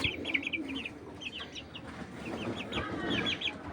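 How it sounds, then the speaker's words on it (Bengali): Several chickens on grass cluck in quick repeated bursts, some overlapping, at moderate distance with a low background hum and no voices. "4 পিস মুরগি একদম 4000 টাকা"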